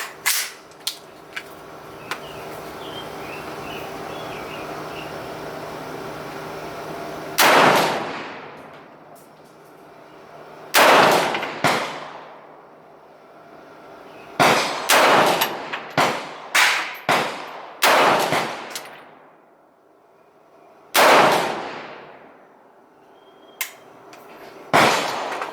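A Palmetto State Armory KS47 Gen 2 rifle firing outdoors, loud sharp shots in scattered single bursts and quick doubles with echoing tails, separated by quiet gaps.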